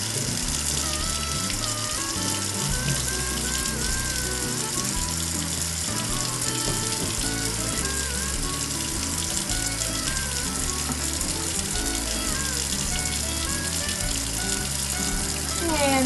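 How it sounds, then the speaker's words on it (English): Hands being scrubbed under a running tap at a clinical sink, fingertips, nails and each finger worked over; steady loud water rush with a sizzling, frying-like hiss throughout, no talk. "Scrubbing fingertips and nails, scrubbing all surfaces of each finger."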